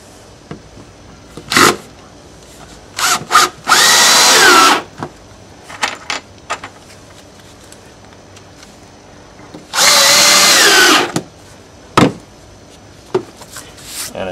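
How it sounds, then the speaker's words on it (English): Power drill driving screws into deck boards through a counterbore tool, two sustained whirring bursts of about a second each, with scattered clicks and knocks of handling between them, close and loud. "insert the screw"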